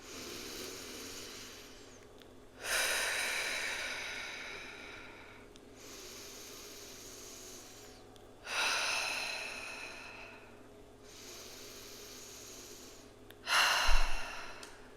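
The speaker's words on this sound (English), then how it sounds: "as you close with those 3 deep breaths" Three slow, deep breaths close a guided meditation, each a long, near airy inhale followed by a fading exhale, with quiet pauses between them and no talking.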